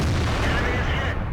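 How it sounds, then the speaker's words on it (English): In World of Tanks, a dense, loud boom rolls through from an ISU-152 tank's heavy gun, with a rumbling low-end blast sustained across the short moment before it abruptly cuts off. "that's the ISU 152. Constantly firing."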